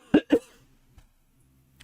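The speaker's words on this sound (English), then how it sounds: "Why am I coughing?" Two quick close coughs in a row, then near silence and a faint third burst at the end.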